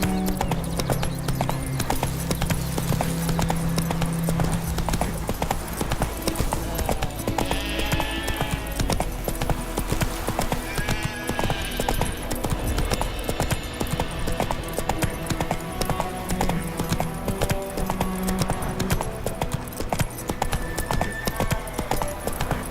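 Roach the horse trotting in The Witcher 3: Wild Hunt – Blood and Wine, with steady rhythmic hoof clip-clops running throughout over game music and ambient sound, and brief spoken lines in between.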